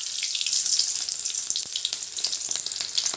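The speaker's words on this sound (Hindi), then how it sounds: "प्याज के भाजू छे" Onions frying in hot oil in a pan, a close, crackling sizzle with scattered pops and light stirring, continuous and without speech.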